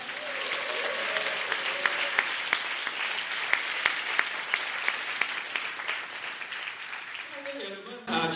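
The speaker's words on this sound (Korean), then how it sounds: "우리 온라인 교회 형제자매들 박수 한번 부탁드립니다." A church congregation applauds for about eight seconds with dense, even clapping and a few sharper individual claps, tapering off near the end as a voice starts to speak.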